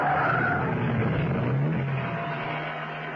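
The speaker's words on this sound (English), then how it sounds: "Steed braked, swerved, and pulled off the road." A car brakes hard, swerves and skids off the road, a loud continuous rush of engine and tyre noise with a brief squeal midway, fading slightly toward the end.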